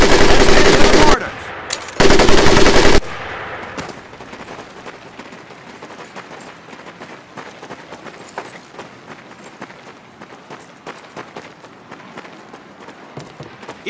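Tommy gun bursts in the World War II shooter Medal of Honor: Pacific Assault, loud and close: a long burst, a brief pause, then a second burst. Quieter battlefield ambience with scattered distant pops follows.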